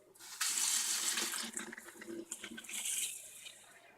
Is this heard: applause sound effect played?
no